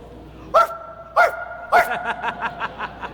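Three sharp dog barks spaced evenly apart, followed by a quicker run of softer yips trailing off; close and clear over a quiet background.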